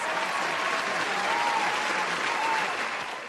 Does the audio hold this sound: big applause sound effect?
yes